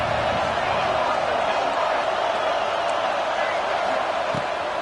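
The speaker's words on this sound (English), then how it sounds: "These fans are going absolutely nuts." A football stadium crowd roars loudly at a Utah versus Washington game, a dense, unbroken wash of cheering that fills the whole stretch, with commentary faintly mixed in.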